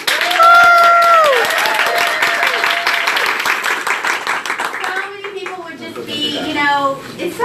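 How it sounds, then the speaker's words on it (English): An audience claps in a round of applause at a Mary Kay director debut event, a crowd's rapid patter of hands under a sustained voice, fading and then swelling again toward the end. "just give yourselves a round of applause for being here"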